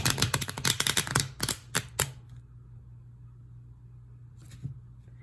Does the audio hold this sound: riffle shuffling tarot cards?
yes